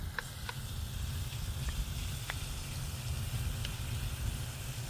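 Food sizzles steadily in a pan with a low, continuous frying crackle and occasional brief pops, close by with no talk.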